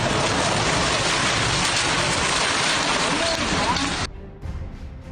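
Heavy rain and strong winds during a storm in Mumbai make a loud, dense, continuous roar that cuts off sharply near the end, giving way to quieter background noise.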